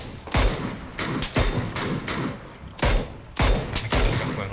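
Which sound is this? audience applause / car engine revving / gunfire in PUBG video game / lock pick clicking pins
gunfire in PUBG video game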